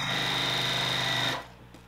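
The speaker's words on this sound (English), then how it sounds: "This is our virtual guild tonight. We're sewing." Sewing machine stitching a quilt during an evening sewing session: a steady, fast mechanical whir with a constant high whine runs for over a second, then stops abruptly, leaving quiet room noise.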